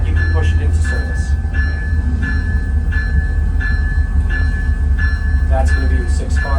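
A 6-car MU commuter train at the Oyster Bay Railroad Museum gives a loud, steady low rumble, with regular rhythmic clicks and clunks from the wheels on the rails repeating every second or so.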